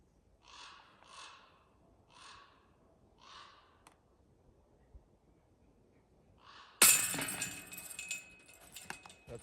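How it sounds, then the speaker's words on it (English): A crow caws four times in a steady series at moderate distance on the Roche Harbor disc golf course, followed by a quiet pause and then sudden loud rustling and handling noise close by. "we got a crow following us around now"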